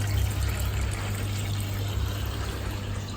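Steady rushing water pours continuously from a hose into an aquarium filter sock, with a low hum underneath, a constant splashing flow without pauses.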